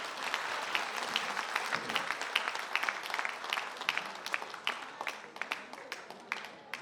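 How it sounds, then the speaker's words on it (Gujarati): Audience applause at a women's award ceremony in Ahmedabad, steady broad clapping from a large crowd, moderately loud and continuous, with a few sharper individual claps standing out. "એકવાર તમારા માટે ફરીથી તાળીઓ થઈ જાય"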